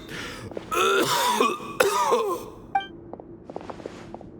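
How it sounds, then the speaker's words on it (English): A video game character in Cyno's legendary quest coughs and clears their throat harshly several times, with raspy gasping breaths, followed by faint clicks and soft background tones. "Why is he coughing so much?"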